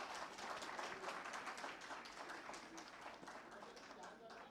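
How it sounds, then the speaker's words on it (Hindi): Steady, distant applause from a convention audience honoring Virender Mansukhani at the CPAI Convention, a continuous soft wash of many hands clapping with some voices in the hall. "वीरेंद्र मनसुखानी जी के लिए एक बार जोरदार तालियां"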